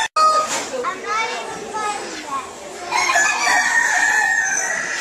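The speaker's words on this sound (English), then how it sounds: "These chickens know that there's something very bad about to happen." Chickens cluck and crow close by, with repeated squawking calls rising over a busy background of children's voices and chatter.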